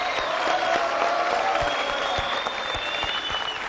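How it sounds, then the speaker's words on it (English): Crowd applause for comedians after a campus panel discussion, with sustained clapping from the audience and a few louder individual claps standing out near the front, along with faint crowd noise. "let's have a huge round of applause for all our comedians."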